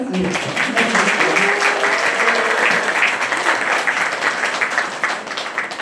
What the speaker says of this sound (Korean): 우리 선생님들에게 또 큰 박수 부탁드립니다